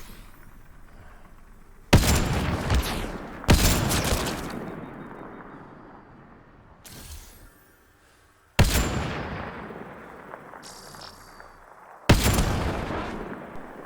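Five loud, sharp sniper rifle shots ring out in the Mass Effect Andromeda game, each followed by a long booming decay, spaced irregularly with a quieter lull in the middle and no talking.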